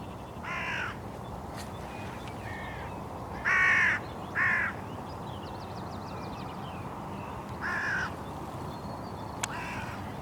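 Several crows caw near bait, a few short harsh calls spaced out over a steady outdoor background hiss, moderately distant.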